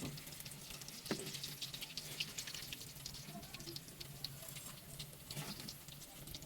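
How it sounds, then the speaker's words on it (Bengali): Fish cutlets fry in hot oil with a soft, continuous sizzle and light patter, punctuated by a few brief clicks and scrapes, moderately quiet and close. "এভাবে কাটলেটগুলো ভেজে নিব।"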